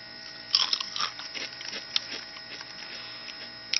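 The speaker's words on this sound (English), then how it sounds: "The potato chip itself is really crunchy." Kettle-cooked Cape Cod sea salt and vinegar potato chips, thick-sliced, crunched in the mouth: a few scattered, fairly soft crisp crunches over quiet room hum, with a sharper pair near the end.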